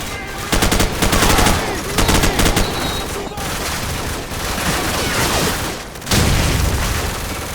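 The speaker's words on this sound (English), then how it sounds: "Suppressing fire! They're making a run for it!" Heavy suppressing gunfire in Call of Duty 4: Modern Warfare, loud sustained automatic bursts and overlapping shots with booming impacts, continuous and dense with brief gaps, mixed with faint battlefield voices.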